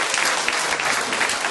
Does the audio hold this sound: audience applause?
yes